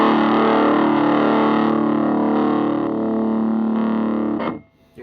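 Distorted electric guitar plays steadily through a Pignose 7-100 amp, with a diode switched in partway through. The tone shifts slightly in level and gain before the playing stops abruptly near the end.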